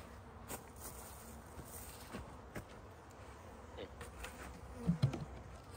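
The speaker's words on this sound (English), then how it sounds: "The bees are flying a little bit today." Honeybees fly around an opened hive on a mild Christmas Eve winter day, giving a steady soft buzzing drone with a few louder passes close by near the end.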